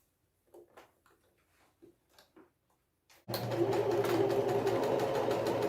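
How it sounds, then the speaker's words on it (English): A sewing machine starts stitching the corners of a fabric basket liner, a loud close rapid mechanical whir that runs steadily after a few seconds of soft scattered sounds and quiet. "I'll stitch along here, and I'll do that for all 4 corners."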